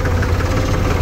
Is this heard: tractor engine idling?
yes